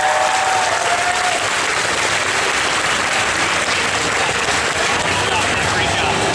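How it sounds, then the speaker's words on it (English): Audience applause at a live Family Feud-style game show at the EGLX 2018 gaming expo, steady dense clapping that fills the whole stretch at a loud, even level with a faint crowd murmur underneath. "give Gerard a round of applause"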